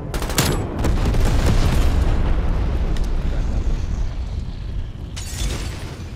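Napalm strike in Call of Duty: Cold War, a massive rolling explosion with a sharp initial blast followed by a sustained roaring, crackling fire that tapers off, with a second burst near the end.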